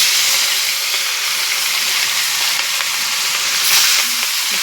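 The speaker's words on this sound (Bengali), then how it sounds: "এই যে এখন মাছ ভাজতেছি" Fish frying in a pan, a steady close-up sizzle with bright crackling hiss that holds at a constant level throughout, with no talking.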